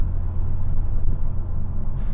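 Ford Focus ST with a 2.5-litre five-cylinder turbo engine, a steady low rumbling drone heard from inside the cabin, continuous and fairly loud, with no talk.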